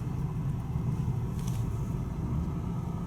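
A car drives slowly through a wide Kmart store parking lot, producing a steady low engine and road rumble heard from inside the car, continuous and even.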